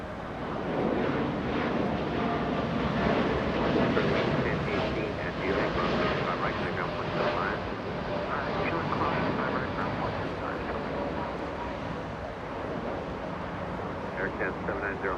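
A five-year-old Boeing 787-9 takes off from runway 25 right at Los Angeles International Airport, its jet roar steady and distant beneath wind noise, while a voice talks over it.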